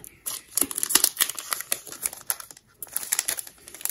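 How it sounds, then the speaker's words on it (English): The top of a Pokemon card pack is cut open with crisp, crinkly snipping and rustling of foil wrapper, a quick irregular series of close, sharp crackles with a brief pause partway through. "this is where I have to kind of like cut the top off."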